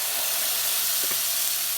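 Semolina and cucumber pancake batter sizzling in a hot pan, a close, steady, dense hiss with no break.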